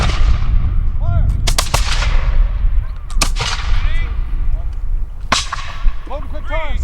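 Reenactors at a living-history village raid fire muskets in volleys, several loud sharp cracks rising above a steady outdoor din, with more scattered shots following.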